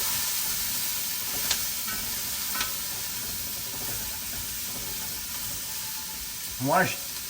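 Chopped vegetables frying in rendered fat for pot roast, a faint steady sizzle and hiss with a few scrapes from stirring and a brief clatter near the end.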